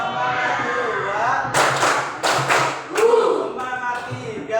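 A class of schoolchildren performs a rhythmic group clapping routine, sharp in-unison claps in short patterned bursts separated by brief gaps, close and loud amid voices talking.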